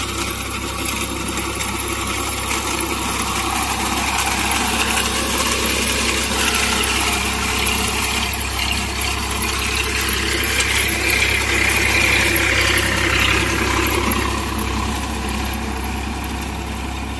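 Vasundhara super reaper engine running at 1200 RPM, a steady loud idling drone with a low hum and a rattling mid-range layer, close and continuous with no talk.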